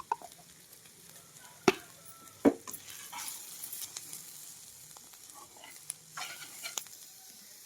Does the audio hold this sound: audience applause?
no